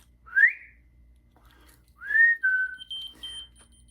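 A person whistles to set off a key finder: a short rising whistle, then after a pause a longer two-part whistle. Faint electronic beeping follows close by in an otherwise quiet room.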